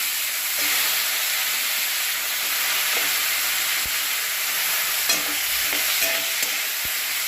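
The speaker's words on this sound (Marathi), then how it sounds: "परतून घेऊया आता छान" Steady loud sizzling of mixed vegetables stir-frying in a pan, with occasional scraping and clinking of a utensil, continuous throughout with no voices.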